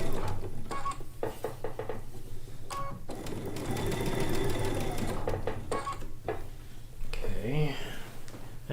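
A sewing machine stay stitches a quilt top in several short bursts and a longer steady run, with rhythmic needle chatter, handling clicks and some talking mixed in.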